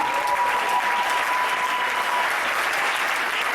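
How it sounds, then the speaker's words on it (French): A church congregation bursts into sustained applause and cheering, a dense, even wash of clapping that holds steady from start to finish with no voices standing out. "Acclamons s'il vous plaît, c'est Jésus."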